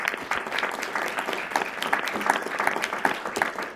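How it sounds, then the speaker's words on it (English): Audience applause at the close of a history lecture, a steady dense wash of clapping sustained for the whole stretch with a few louder swells, fairly close and uninterrupted by talk. "we're going to give you a round of applause here"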